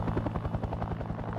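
Huey helicopter flying, its rotor blades beating a fast, steady thudding rhythm over a deep engine drone, loud and close with no voices.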